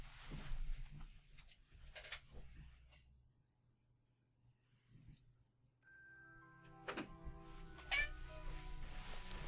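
A domestic cat wanting to come inside meows, with a sustained, tonal call in the later seconds after some soft thumps and rustling, close and quiet.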